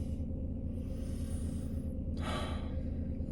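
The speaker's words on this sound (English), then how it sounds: "Wow, I'm actually out of breath still." Heavy, breathy panting right after a leg workout, two airy gasping breaths over a low steady background hum, close and fairly quiet.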